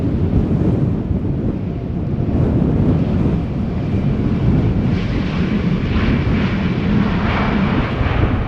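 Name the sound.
Transavia Airbus A321neo flying past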